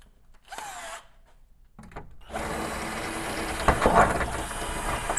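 A power drill with a larger bit bores into metal for a makeshift car trunk lock, starting in short bursts before settling into a steady, loud grinding whine with a peak near the end.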